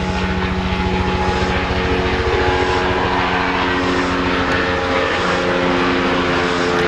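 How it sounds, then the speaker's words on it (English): A helicopter drones steadily overhead with a pulsing rotor throb, loud and constant throughout without talk. "Let this helicopter go by."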